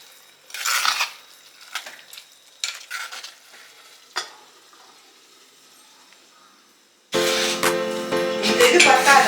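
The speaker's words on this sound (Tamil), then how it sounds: "இப்போ வந்து இதை கிளறி விட்டு மூடி போட்டு நல்லா மூடி வைப்போம்." Prawn masala stirred in a pan with a few separate scraping bursts of spoon on metal, followed by a sustained louder sizzle and clatter once the lid goes on and the heat builds.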